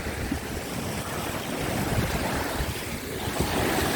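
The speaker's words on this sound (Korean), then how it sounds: "여기는 파도가 아주 요란합니다" Rough sea waves crash against the coastal rocks at Adeul Rock in Jumunjin, Gangneung, a loud continuous roar of surf in strong wind with no talk.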